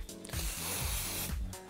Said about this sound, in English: the best thing to do is spray a little bit of hairspray